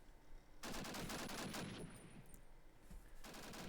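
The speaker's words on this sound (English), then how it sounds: "I love the sound of the sniper in UO" Sniper rifle fire in Call of Duty: United Offensive multiplayer, faint and distant, with sharp cracks running together in a rapid crackling burst and trailing into a quieter tail before another burst starts.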